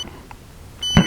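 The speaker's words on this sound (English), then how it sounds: "Felt the vibration and a beep" A drone remote controller emits a short, sharp electronic beep near the end, clear and close after a moment of quiet handling noise.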